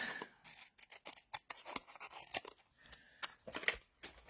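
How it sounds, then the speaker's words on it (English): Scissors snip through a strip of patterned craft paper in a run of quick, sharp cuts with short pauses, close and fairly quiet, no voices. "I'm going to trim off that piece because I don't really want the sticky stuff to go through"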